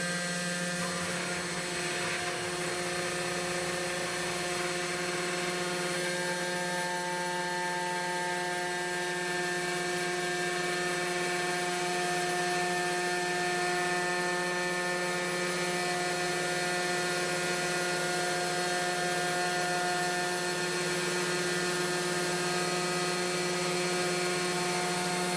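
A homemade mini CNC machine cutting carbon fiber produces a steady, tonal whine with a constant mechanical hum, running continuously at moderate level with no voices.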